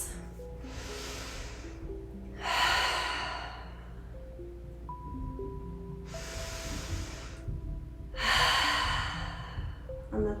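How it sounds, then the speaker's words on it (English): A group breathes deeply during a yoga and sound bath session, two long airy exhalations sounding close against a soft sustained tonal hum in the background. "let's do three collective deep breaths"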